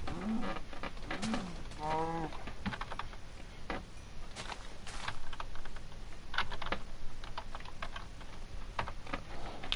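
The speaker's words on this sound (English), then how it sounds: "This is a keyboard." Quick, light clatter of typing on a computer keyboard, irregular bursts of key taps close to the microphone over a quiet background, with a brief muffled voice near the start.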